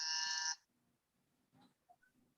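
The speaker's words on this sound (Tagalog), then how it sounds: "Test muna ng buzzer." An electronic game show buzzer for a family quiz game gives a single loud half-second tone, then a couple of faint beeps follow in quiet room noise.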